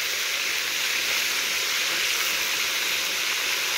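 Fish sizzles steadily in hot oil over medium heat, a loud, even, continuous frying hiss with no talking.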